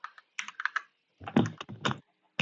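Fast typing on a computer keyboard, two short bursts of crisp clicking keystrokes close to the mic with a brief pause between them, no talking over it.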